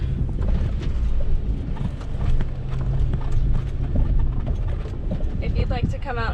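Horse hooves clip-clop at a walk across an outdoor obstacle course, a steady rhythm of fairly close thuds, with a person talking over them.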